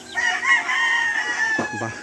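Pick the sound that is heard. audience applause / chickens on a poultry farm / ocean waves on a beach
chickens on a poultry farm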